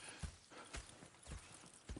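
Horse hooves clip-clop in the Red Dead Redemption 2 video game, a few soft, evenly spaced thuds as the horse walks, faint and distant with no talking.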